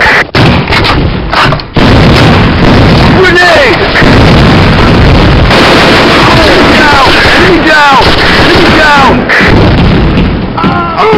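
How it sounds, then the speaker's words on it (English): Grenade blasts and heavy gunfire roar through a video game battle, with loud booming explosions and sharp pops piling up almost nonstop at close range. "Grenade!"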